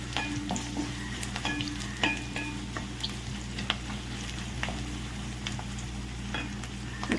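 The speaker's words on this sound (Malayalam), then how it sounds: "നല്ലപോലെ മിക്സ് ചെയ്ത് കൊടുക്കണം." Green chilies for a beef roast are stirred and fried in a pan, producing a continuous close sizzle with light scraping and clinks of the spoon, moderately loud and without talking.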